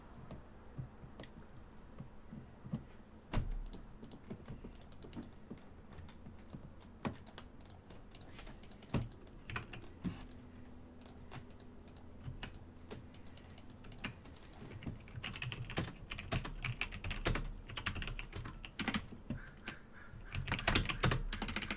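Someone types in scattered bursts on a computer keyboard that keeps double-typing letters, with sharp, quiet clicks picking up and growing busier toward the end. The typing is close and there is no talking.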